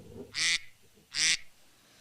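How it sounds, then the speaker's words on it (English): Two short electronic duck-sound quacks from a kitchen timer, each about a quarter second, spaced under a second apart, moderately loud against a quiet room. "That's the duck timer. You hear that?"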